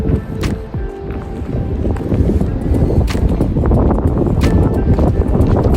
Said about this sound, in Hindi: हवा चल रही है बस